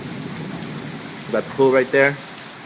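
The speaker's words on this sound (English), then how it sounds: "Beautiful rain." Steady rain falling in Piaxtla, Puebla in August, a soft even hiss of drops throughout, while someone speaks briefly over it nearby.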